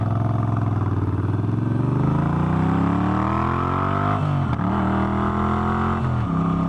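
A Moto Guzzi V7 III Carbon Shine motorcycle engine revs loud and close, pitch climbing steadily under acceleration, then dropping sharply twice with gear shifts before pulling again.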